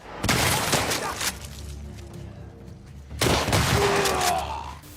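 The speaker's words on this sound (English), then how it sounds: "The sort of feel of the shotgun blast going off" Two heavy shotgun blasts resembling a Remington 870 fired in The Last of Us Part 2, each a loud sharp boom with a long rumbling tail, about three seconds apart, with no talking.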